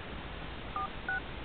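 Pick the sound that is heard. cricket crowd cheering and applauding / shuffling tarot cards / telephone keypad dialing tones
telephone keypad dialing tones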